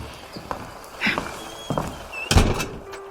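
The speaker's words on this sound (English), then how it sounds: "Please close the door" A door swings shut indoors and lands with a solid, close thud, preceded by a few lighter knocks and shuffling steps.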